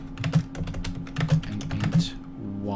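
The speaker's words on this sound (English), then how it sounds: "I really hope the typing isn't too loud." Rapid, irregular clicking of keys on a computer keyboard, close and fairly loud, with a low hum in the background.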